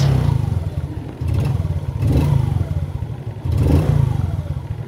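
A motorcycle engine idles close by with a deep, lumpy exhaust burble, revving up briefly several times in uneven pulses.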